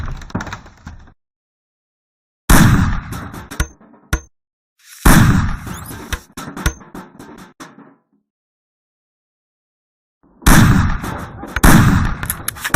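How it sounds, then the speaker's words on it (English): Gunfire in the Mafia video game tutorial as cans are shot off a table: loud, sharp bursts of shots in separate clusters, with ringing tails and short silent gaps between them. "Shoot the cans off of the table."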